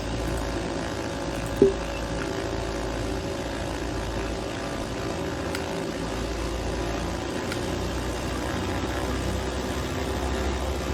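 In Microsoft Flight Simulator, a light aircraft's propeller engine drones steadily while it taxis toward the runway. A single faint click breaks the even hum.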